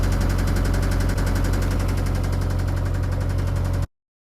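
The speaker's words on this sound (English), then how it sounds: "maybe get this clacking noise sorted on the engine." A narrowboat engine runs loud and close with a steady rapid clacking knock, then cuts off abruptly near the end.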